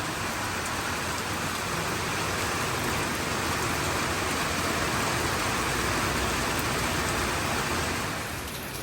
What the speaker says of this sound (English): It's raining now, so that's why the rain's splashing.